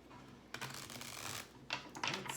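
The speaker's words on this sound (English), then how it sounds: "I want to give this deck a couple of shuffles" A deck of tarot cards is shuffled in two short bursts of quick, soft riffling clicks, close and quiet, with no talking.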